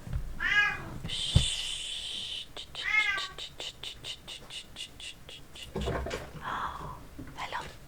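A cat meows loudly twice, with a sharp clack between the calls and a run of rapid tapping or scratching noises. It sounds close by and is mixed with other household noises.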